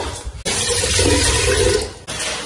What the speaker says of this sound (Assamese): এই চাউলখিনি ধুই মানে পাতি দিম